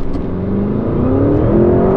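A Porsche Cayenne Turbo GT launching hard from a standstill, its engine roaring loud and close with pitch climbing steadily as it accelerates.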